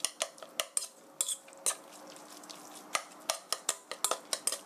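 Seasoning is mixed into zucchini and minced meat in a bowl: quick, irregular clinks and scrapes of a utensil against the dish, close and crisp over quiet background.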